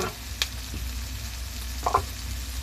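Shrimp go into a hot frying pan with pechay and fermented black beans, giving a steady close sizzle with a couple of brief clattering stirs. No one speaks.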